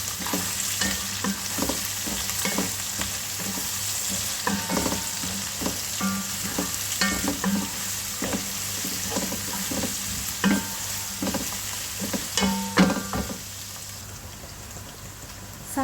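Onions frying in oil for chicken biryani, stirred repeatedly; a continuous close sizzle broken by regular scraping and clattering strokes of the spoon in the pan.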